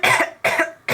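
A reader's voice imitates the Lorax coughing, giving two sharp, harsh coughs close to the listener with a third beginning at the very end.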